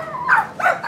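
A dog gives two quick, close barks or yips in rapid succession, short and fairly loud against a quiet background.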